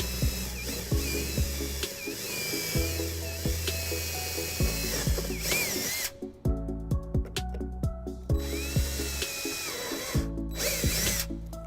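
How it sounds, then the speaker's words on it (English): A power drill bores holes to mount a trailer wiring bracket on a 2015 Dodge Grand Caravan, whining loud and close in several bursts with short pauses and ratcheting clicks between them. "we're going to drill a couple holes here, drop some screws down and bolt it down"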